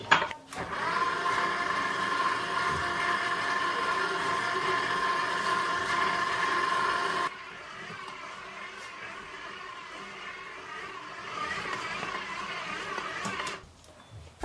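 Brioche dough of flour and beaten eggs churns in a kneading machine's bowl, a steady, loud motor whir for several seconds that drops to a softer, rougher churning before cutting off near the end, with no talk.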